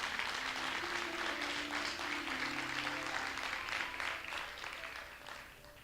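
Church congregation applauding during a sermon, a dense steady clapping with a faint sustained tone beneath it, fairly distant, fading slightly toward the end.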